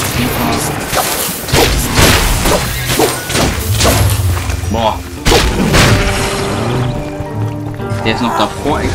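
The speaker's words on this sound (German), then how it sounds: "Der ist noch davor explodiert." Explosion and impact effects in the Minecraft Dungeons video game, heavy thuds and booms with whooshes repeating over several seconds amid dense, loud game sound, with someone talking over it.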